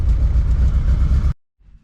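A Toyota MR2 with a 3SGTE turbo engine, loud and close with a deep, throbbing low rumble, runs steadily and then cuts off abruptly, leaving near silence with a faint low murmur.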